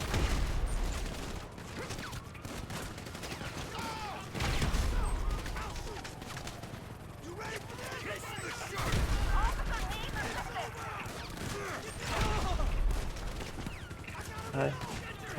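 Gunfire and explosions from the video game GTA 5, including RPG blasts, come as repeated heavy booms and rattling shots in bursts over about fifteen seconds, with someone talking over the action.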